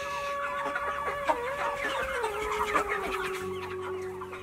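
Chickens clucking repeatedly on a poultry farm, close and clear, with scattered calls overlapping and a steady low hum underneath.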